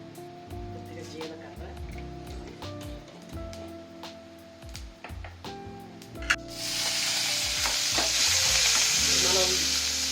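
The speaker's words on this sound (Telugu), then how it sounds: "ఇప్పుడు ఇదే కడాయిలో ఇంకొంచెం ఆయిల్ వేస్తున్నానండి ఇంకో స్పూను కొద్దిగా తాళింపు గింజలండి" Tempering seeds and extra oil frying in a kadai for a spicy egg onion fry, starting as scattered pops and clinks over a low sizzle that swells into a loud, steady hiss for the last few seconds.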